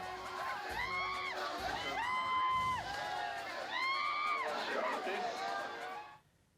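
Party workers celebrate an election win with a crowd cheering and whooping loudly, voices rising in sustained waves of shouting that fade out at the end.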